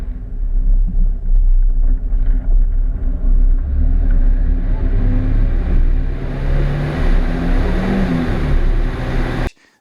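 A car engine rumbles steadily while driving, loud and close, with low droning tones and small shifts in pitch as it moves, ending abruptly.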